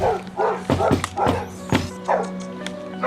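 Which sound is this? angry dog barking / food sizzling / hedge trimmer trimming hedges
angry dog barking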